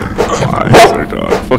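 Dog barking inside a Slender Man horror video game, a few short barks close by, mixed with game sounds and a voice.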